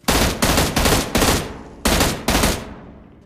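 M16 rifle fire in the PUBG Mobile Lite game: six loud, sharp shots in a quick uneven series, each with a short decaying tail, the last fading out.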